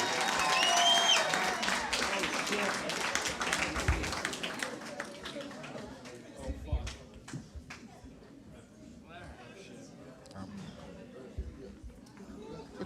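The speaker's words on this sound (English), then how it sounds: "I need y'all to start clapping right now." An audience at a roast battle comedy show claps and cheers loudly as a comedian comes to the stage, the applause fading gradually into scattered claps and murmuring crowd chatter, with a voice talking over it.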